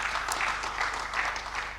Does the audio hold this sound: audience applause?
yes